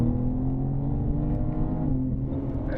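A BMW M turbocharged car accelerating on a race track, its engine droning steadily and loud with layered harmonics as the throttle comes on, close and continuous with no talk.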